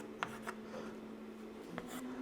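Chalk or marker taps and strokes across a board during a chemistry lesson on the octet rule, faint, with a few short scratches over a low room hum.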